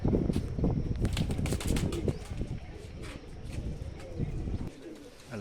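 Racing pigeons taking off and settling again on a rooftop loft during a hot-weather flying session near the border, with busy flapping wingbeats and soft cooing up close, steady and unbroken with no talk.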